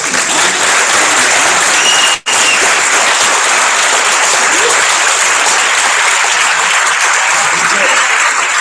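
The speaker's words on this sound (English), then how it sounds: "Can we get a huge round of applause?" Sustained applause from a large congress audience, loud and steady throughout with only a brief gap, dense clapping filling the hall.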